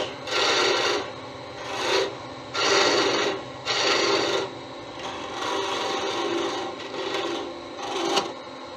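Sandpaper rasping against a turned wooden lever bottle opener handle on a lathe, starting with about five rhythmic stroking bursts and then settling into a steadier continuous rubbing, close and loud with no speech.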